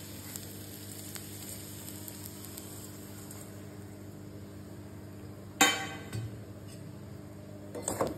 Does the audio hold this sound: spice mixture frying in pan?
yes